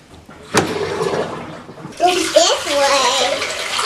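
A Giantex mini portable washer switches to drain, and water starts rushing and splashing steadily out of it, close and fairly loud, after a click and a short stretch of quieter noise, with a voice briefly heard.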